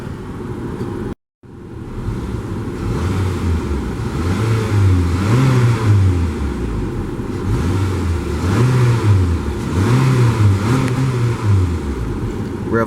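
A 2015 Honda Accord LX engine revs up in repeated rising-and-falling pulls from a steady idle, loud and close, each rev swelling then dropping back, with no talk.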